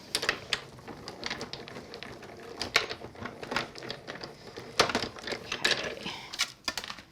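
Die-cut card stock for a tie-dye butterfly card running back through a cutting machine, giving a quiet run of irregular clicks and ticks with a few sharper taps, close by and with no one speaking.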